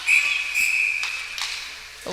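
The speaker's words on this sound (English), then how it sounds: "Whistle blown." A referee's whistle blows one long shrill tone at a U15 major ice hockey game, fairly loud over arena murmur, with faint crowd noise and a couple of soft knocks after it.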